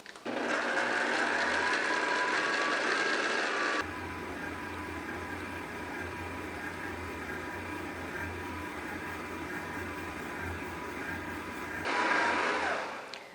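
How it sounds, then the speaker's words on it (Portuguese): A stand mixer runs at low speed kneading bombolone dough, a steady whirring motor drone with faint rhythmic mechanical ticking, loud and continuous throughout, dipping slightly in level partway through. "Coloca a batedeira em velocidade baixa por 1-2 minutos até ela agregar todos os"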